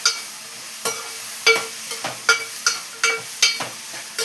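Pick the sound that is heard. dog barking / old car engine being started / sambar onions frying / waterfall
sambar onions frying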